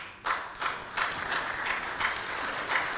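Applause from a convention audience after a speech: sparse, rhythmic clapping with a handful of distinct claps recurring at a steady pace over a soft room background.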